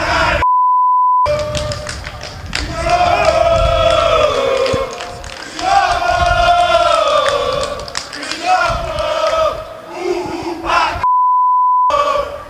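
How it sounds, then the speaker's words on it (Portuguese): Vasco football fans protest at São Januário over poor results, a loud crowd chanting and shouting in rising waves, with beeps at the start and end. "um grupo de torcedores veio até São Januário para protestar pela sequência de maus resultados no campeonato"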